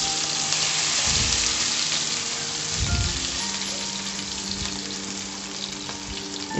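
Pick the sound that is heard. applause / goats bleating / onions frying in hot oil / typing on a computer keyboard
onions frying in hot oil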